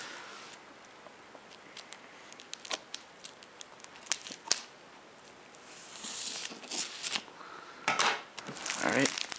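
Cardboard box of a Two Worlds 2 Royal Edition PS3 set being cut open: faint scattered scratches and ticks, then louder rasping, tearing bursts toward the end, close by with no talking.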